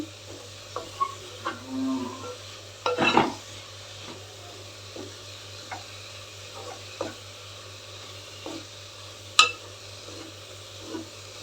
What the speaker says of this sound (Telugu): లో ఫ్లేమ్లో పెట్టుకొని బాగా కలుపుతా వేపుకొని